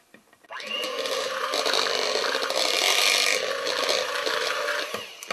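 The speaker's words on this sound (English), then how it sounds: "Okay, we blend again." Soy milk, vanilla and lemon zest whir in a blender, starting abruptly and holding a loud, steady churning roar for several seconds before cutting off.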